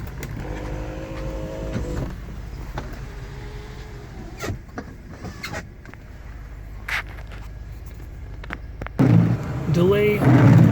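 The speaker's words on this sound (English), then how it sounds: "Power windows." Power window motors in a 1975 Ford Thunderbird whir as the glass runs, a rising and falling electric whine heard near the start and again at the end, with a person talking and cabin handling noises between.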